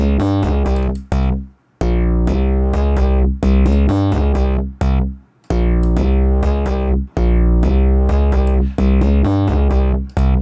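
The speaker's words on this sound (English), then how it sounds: "So now we have the distorted bass." A heavy, distorted bass tone made from a drum sample plays in rhythmic, punchy bursts with short gaps, loud and close, no voices.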